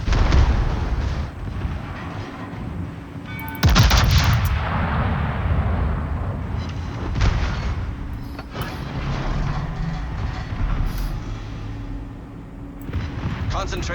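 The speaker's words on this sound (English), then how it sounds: "Concentrate fire on the enemy warship." Warship artillery fire in the naval combat game World of Warships, with a heavy cruiser Moskva in play: repeated booming salvos and explosions rumble over continuous battle noise, one especially loud blast near the start, while someone talks throughout.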